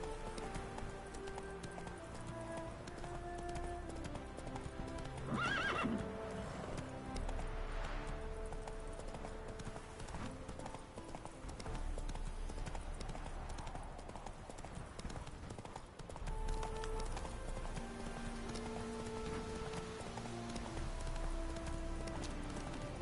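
Geralt's horse Roach galloping in The Witcher 3: Wild Hunt, a steady rhythmic clip-clop of hooves running on and on under game music and ambience, moderately close with a brief louder swell midway.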